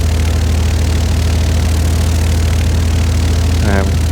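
A light aircraft engine idles at about 1200 rpm with a steady low throbbing drone, loud and close throughout, and a short rising whine near the end.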